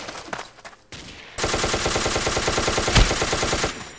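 Rapid automatic gunfire in the Ace of Spades video game cuts in after a brief quieter lead-in, then rattles in a dense, fast, even burst before trailing off.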